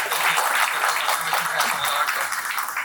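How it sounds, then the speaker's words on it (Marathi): An audience at a book launch in Pune claps together in a steady wash of applause that carries on throughout, moderately loud across the room. "यासाठी आपण यांच्यासाठी टाळ्या वाजवूया"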